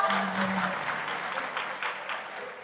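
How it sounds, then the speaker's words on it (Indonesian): Church congregation at a Christian sermon applauding, a soft, fairly distant patter of many hands that fades gradually, with a short hum of voice near the start. "Kok udah tepuk tangan toh?"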